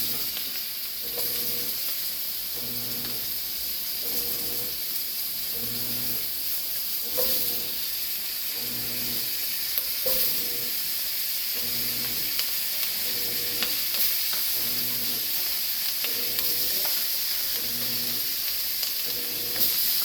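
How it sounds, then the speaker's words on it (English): Bell peppers and onions sauté in a hot pan with a steady, close sizzling hiss, broken by a regular rhythm of stirring scrapes and clicks through the whole stretch, with no talking. "my bell peppers and onions in here, and we're gonna saute that just to get some color on it"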